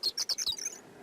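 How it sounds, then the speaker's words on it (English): A songbird in a spring valley sings a quick one-second phrase of four or five bright, high chirps in a rapid even rhythm, close and clear, trailing into softer notes. "Such a nice singing bird."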